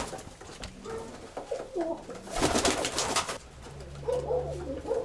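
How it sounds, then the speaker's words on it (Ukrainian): A rock dove, or feral pigeon, coos close by in a short series of soft, low, throaty calls over quiet background noise. "Сизий голубок."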